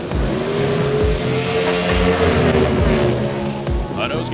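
Drag racing cars launch side by side with their wheels up down an NHRA track in Texas, a loud, steady roar of racing engines with rising pitch, heard under excited commentary.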